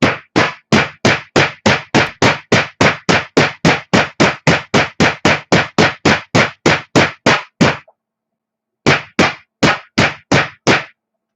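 Rapid, loud hammer blows strike a tight drag race transmission part for a Drag Race Concepts mid-motor transmission, about thirty evenly spaced hits in a steady rhythm, a brief pause, then several more strikes.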